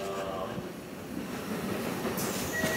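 Rumble and rattle of a Keikyu Line train moving along the tracks in Japan, heard from inside, with faint background voices and a brief high squeal toward the end.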